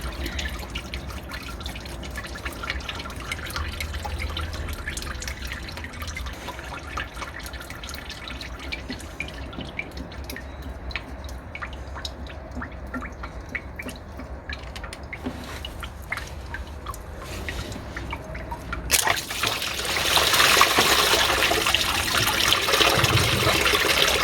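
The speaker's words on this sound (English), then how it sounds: "I'm just going to leave that drain out nice and controlled before I take that off" Engine coolant drains and drips from a Land Rover Freelander during a timing belt and water pump job, a steady close trickle of liquid that swells into a louder, heavier flow near the end.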